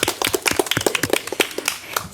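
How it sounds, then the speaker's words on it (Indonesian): A short burst of hand clapping from a small group at the opening of a podcast, quick irregular claps close by with no talk over them. "Tepuk tangan."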